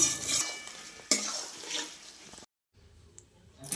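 Paneer pieces frying in a pan: close sizzling with clattering stirring and a sharp pan knock, then a sudden cut to near silence with a faint clink.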